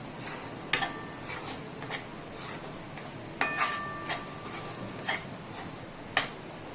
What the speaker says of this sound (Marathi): दोन मिनिटं मस्त मसाला परतून घेऊया